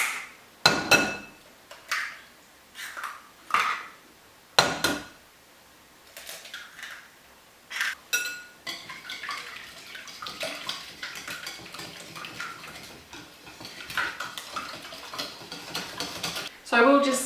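Three eggs being stirred into melted chocolate and butter for brownies, with sharp knocks and clinks of the utensil against the bowl early on, then steady wet scraping and mixing.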